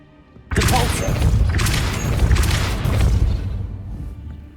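A Depulso force spell cast in Hogwarts Legacy bursts in suddenly after a quiet moment, a loud close rushing blast with crashing thumps that rumbles on for several seconds before easing off.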